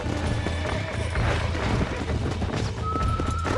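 Horse hooves clip-clopping at a steady trot in the Western video game Red Dead Redemption, with a short neigh and background wind and game ambience.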